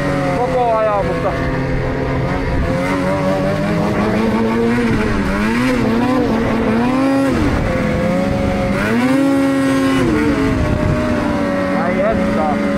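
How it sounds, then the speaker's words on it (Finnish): Snowmobiles being ridden out with friends on snow, engines droning and rising and falling in pitch continuously throughout, with people talking over them. "Jätkien kanssa käydään vähän kelekkailemassa."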